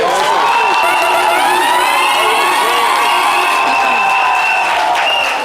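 A studio audience at a midday show applauds and cheers in a loud, continuous wash of clapping and crowd noise, with shrill whistle-like tones riding above it.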